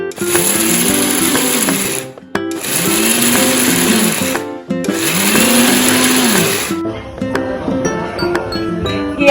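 A kitchen mixer grinder pulverizes chana dal into a fine, semolina-like powder, its loud whirring motor running in three long bursts separated by brief stops, then falling to quieter rattling.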